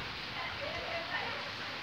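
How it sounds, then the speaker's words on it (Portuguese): Rain falls steadily in the dry backcountry of Bahia, Brazil, a soft, even hiss that holds at a low level from start to finish, with no voices. "Essa chuva maravilhosa."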